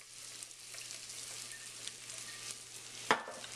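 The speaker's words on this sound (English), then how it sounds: "give them a good stir. Mix it up really good and let it cook in with the onions and the garlic" Rice frying in oil with onions and garlic, a steady broad sizzle with occasional soft scrapes of a spoon stirring through it and one sharp clink near the end, close but fairly quiet.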